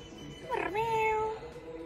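A person imitates a cat with a single drawn-out meow, rising then holding steady for about a second, close and moderately loud against a quiet background.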